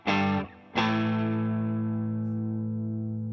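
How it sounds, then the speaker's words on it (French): An electric guitar run through a pedalboard reverb strums one chord, then strikes it again a moment later and lets it ring, the wash slowly fading, loud and close with no talking. "Là c'est vraiment ma petite reverb de confort"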